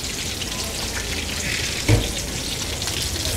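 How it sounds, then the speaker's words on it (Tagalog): Water from a kitchen tap runs steadily as hands are washed, with a soft continuous splash and one brief knock partway through, heard close and fairly quiet. "Hugas ng kamay."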